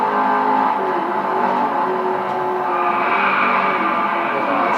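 A Maserati GT in the racing game Driveclub holds a loud, steady engine drone with a sustained rev that climbs slightly toward the end.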